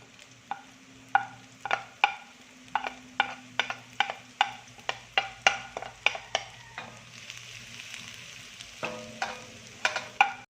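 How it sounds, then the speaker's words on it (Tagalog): Garlic and onion sauté in hot oil in a pan, a soft sizzle under repeated, rhythmic spatula scrapes and taps against the metal, about twenty close strokes. "magpapainit lang po tayo ng ating kawali at maglalagay po tayo dyan ng ating mantika. Saka po tayo maglagay ng ating igigisang bawang at sibuyas."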